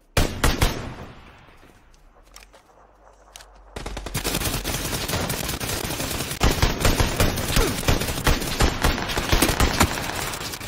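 Gunfire in the battle-royale game PUBG on Xbox One X: after a quieter stretch, dense rapid bursts of shots erupt and continue loud and sustained through the rest of the clip.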